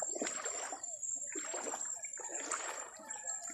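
Strong floodwater rushing and splashing along a flooded road in barangay Mamali, in three loud surging bursts of broadband splatter with a continuous high hiss, fairly close and with no talk.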